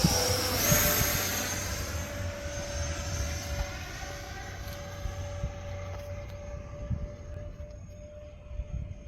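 A small E-flite F-15 Eagle RC jet with a 64mm electric ducted fan flies a go-around over a school field, its steady high-pitched whine sweeping past, loud at first and then slowly fading with the distance.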